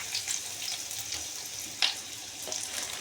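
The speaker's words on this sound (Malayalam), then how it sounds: "ഇനിത് ഉള്ളി, നാളികേരം, വെളുത്തുള്ളി ഇതെല്ലാം കൂടിയിട്ടുള്ള മിക്സ് ചെയ്തിട്ടുള്ള ഒരു കൂട്ട് ചീനച്ചട്ടിലേക്ക് ഇങ്ങനെ ഇടണം." A mix of onion, coconut and garlic drops into hot oil in a pan, producing a steady close sizzle and hiss with a few sharper crackles and splashes.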